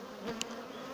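Honey bees at a hive during a colony split, with a newly emerged queen, give a faint steady buzz, and one brief louder buzz from a single bee passes close by.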